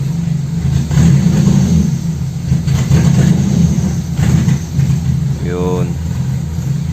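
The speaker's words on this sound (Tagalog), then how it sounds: "pag tinatapakan ko yung gas, palyado siya," Toyota Corolla with a 2E engine misfiring as it is revved, uneven stuttering engine rumble surging and dropping in bursts, loud and close, with someone talking over it.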